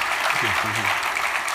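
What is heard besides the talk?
audience applause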